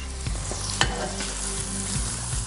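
Mushrooms fry in butter in a hot pan with chili for a traditional Icelandic dish, a steady close sizzle broken by occasional stirring scrapes, with no talk.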